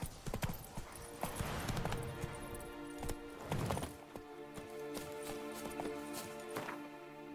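Roach, a horse in The Witcher 3, clip-clops along with steady repeated hoof strikes, fairly close, with a few louder bursts of movement and a faint snort over a low ambient bed.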